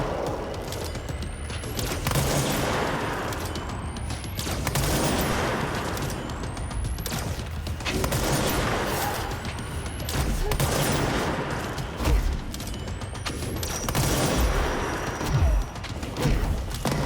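Sustained gunfire in the video game Control, a dense, continuous barrage of shots with periodic rising whine effects layered over a constant rumbling battle din, with no talk in between.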